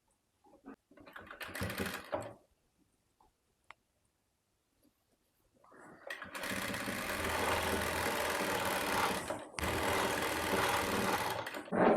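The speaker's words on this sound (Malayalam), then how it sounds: "അതിനുശേഷം ഇതിൻ്റെ എൻഡ് ഭാഗം അതുപോലെ നമ്മൾ ഫോൾഡ് ചെയ്ത് സ്റ്റിച്ച് ചെയ്തെടുക്കുക കേട്ടോ." Sewing machine stitching the folded end of a baby frock frill, running in two long loud bursts after a brief earlier run and a quiet pause, steady and close.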